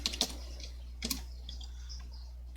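Someone types numbers for a Dow Jones opening value on a computer keyboard, giving a few quick clusters of key clicks with pauses between them over steady low room hum, close and fairly quiet.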